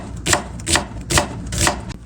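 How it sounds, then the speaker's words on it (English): A knife roughly chopping serrano and jalapeño peppers on a cutting board gives four crisp, evenly spaced blade strikes, fairly close and clear, with no voices. "Rough chops 2 serrano peppers, 2 jalapeños, 1 whole avocado."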